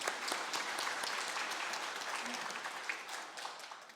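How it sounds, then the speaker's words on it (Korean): A church congregation applauds together during a Sunday service, dense steady clapping throughout with a few shouted voices underneath. "우리 박수로 한번 격려합시다."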